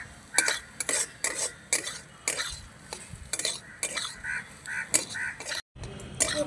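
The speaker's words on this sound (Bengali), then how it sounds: "এবার এই যে আলু মশলাটা তৈরি করে রেখেছিলাম এটা দিয়ে দেব। ভালো করে মিশিয়ে নিচ্ছি।" Egg bhujia and potato masala being stirred together in a pan, with steady repeated scraping and clinking of a spatula against metal, close and fairly loud, a soft sizzle underneath and a brief pause near the end.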